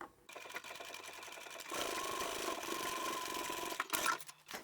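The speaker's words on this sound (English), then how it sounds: "I'm going to sew this one together" A sewing machine stitches a vinyl and fabric handbag, a few short starts, then a steady fast whirring run of stitches before it slows and stops with a clunk.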